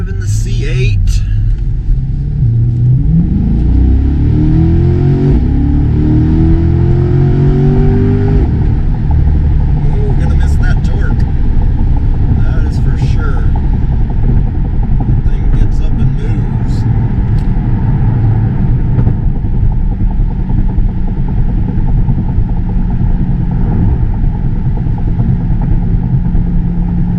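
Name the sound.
2022 Chevrolet C8 Corvette driving, mid-engine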